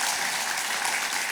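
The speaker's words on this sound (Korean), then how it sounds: "이럴 땐 박수 한번 쳐야 되는데." Audience applause at a religious sermon, a short burst of dense, even clapping from many hands filling the space.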